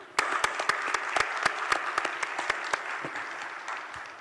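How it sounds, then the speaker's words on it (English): An auditorium audience at a healthcare technology congress gives a host a round of applause, with several sharp, distinct nearby claps standing out over a steady bed of clapping from the crowd. "So let's give him a round of applause."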